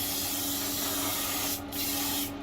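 An airbrush sprays paint onto a model locomotive in a steady, close, hissing stream, with two brief pauses as the stroke sweeps back and forth.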